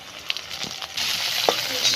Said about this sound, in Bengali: এবারে টমেটো কেটে রাখা দিয়ে দেবো